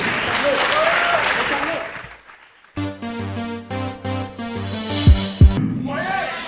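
A festival crowd claps for about two seconds under voices before it fades, then a loud burst of music with sharp hits takes over, with a short return of clapping at the end.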